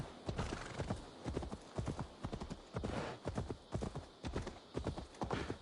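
Rhythmic horse hooves clip-clopping steadily and close in the video game Assassin's Creed Valhalla, several animals moving together with no talk.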